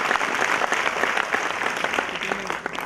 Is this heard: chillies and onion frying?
no